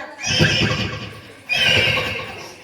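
A voice mimics a horse's neigh in two breathy, shrill bursts, one after the other, loud and close.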